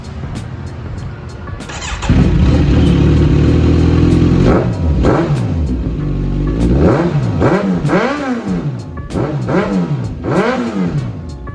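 A Kawasaki sport motorcycle engine fires up and revs hard, then throttles up and down in a series of sharp, rising and falling revs, loud and close.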